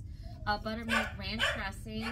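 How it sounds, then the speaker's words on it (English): A dog barks and yips repeatedly in the background of a home kitchen while someone talks over it, the barks fairly faint. "I'm so sorry about the barking."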